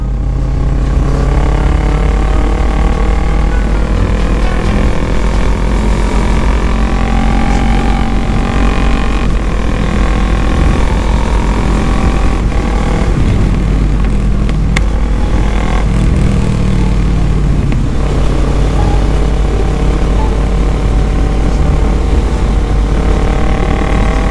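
A Kawasaki ER6N motorcycle with a custom exhaust rides steadily, the engine droning loud and continuous with a deep, rumbling exhaust note under heavy wind noise for the whole stretch.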